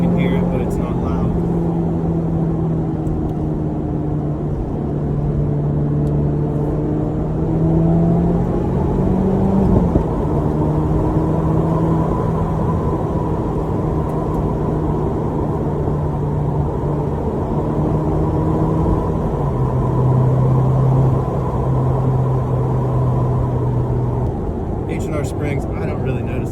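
A 2024 Subaru WRX with an AWE exhaust gives a continuous low, moderately loud engine drone that holds steady with a few stepped shifts in pitch over nearly half a minute.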